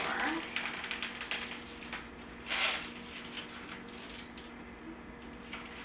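Portobello mushrooms sliced thinner with a knife on a cutting board, faint irregular tapping cuts in a quiet kitchen with low background hum.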